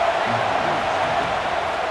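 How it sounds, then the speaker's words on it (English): A stadium crowd in the EA Sports College Football 26 video game keeps up a steady, dense roar on a fourth-down defensive stand, a constant wash of massed voices with no clear peaks. "this crowd trying to help this defense rise to the occasion"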